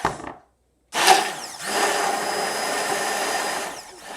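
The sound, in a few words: mixer whipping cream in a jug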